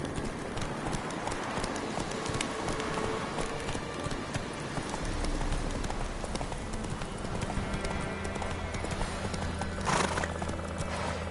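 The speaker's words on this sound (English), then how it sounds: "Run, Roach. Faster" Galloping horse in The Witcher 3, with rhythmic hoofbeats and a brief neigh, mixed into loud, busy game ambience and music throughout.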